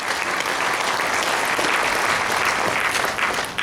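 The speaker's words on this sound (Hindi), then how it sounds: "एक बार जोरदार तालियों के साथ आगे बढ़ते हैं।" An audience at a health and diet camp in Jaipur claps loudly, a dense, continuous wash of applause that holds steady for several seconds and fades slightly at the end.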